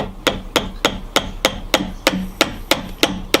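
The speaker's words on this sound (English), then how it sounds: "these brad nails, we're going to tap them in" A hammer taps brad nails into a wooden stockwhip handle in a steady series of about eleven sharp, close knocks at an even rhythm, with no talk.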